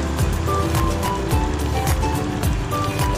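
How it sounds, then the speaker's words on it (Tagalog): A motorcycle engine runs steadily as the rider heads slowly to Siloam Falls in Burauen, Leyte, with a continuous rumble and rattle mixed with wind and road noise, close and loud throughout. "Tumatakbo yung motor ko, hinahinay lang kami."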